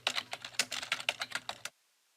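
Quick, close keystrokes on a computer keyboard in a steady, slightly uneven rhythm for under two seconds, then stopping abruptly into silence.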